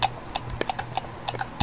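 Horse hooves clip-clop on stairs in a horse video game, a brisk, uneven series of sharp knocks close by over a low steady hum, as a lame horse struggles to climb.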